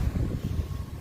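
Wind gusts buffet steadily near Venice Beach in Los Angeles, a low rumbling roar with uneven pulses across a single second, no voices.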